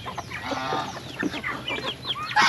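Several broiler chickens cluck in overlapping, irregular bursts at close range, with a busy flock chatter throughout and a louder squawk near the end.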